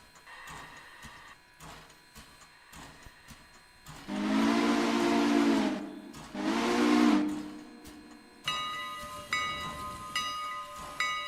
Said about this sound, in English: I love how you can quill the whistle.